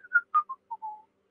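A person whistles a short descending tune of several clear notes to imitate a whistling heard during a ghost hunt, close and quiet with silence around it.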